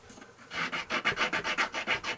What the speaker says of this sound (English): I think you can see how I polished all the burrs out of that